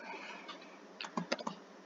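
Keys are typed on a computer keyboard while a shell script is entered in a Linux text editor, a quick burst of several close, crisp clicks after a faint hum, with no talk.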